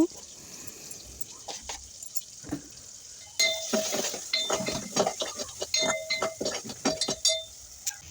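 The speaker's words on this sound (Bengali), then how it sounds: "সমস্ত রকম মশলা দিয়ে ভালো করে মাংসটা কষিয়ে নেব।" Meat being stirred and fried with spices in a pan, a steady sizzle under repeated clinks and scrapes of a utensil against the pan, irregular and close, growing busier halfway through.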